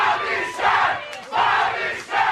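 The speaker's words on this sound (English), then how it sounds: "they're chanting Pat louder than they were chanting Bobby Shaft" A large sports crowd chants a name in loud, rhythmic two-part swells, each chant rising and falling roughly every second, with massed voices roaring in unison.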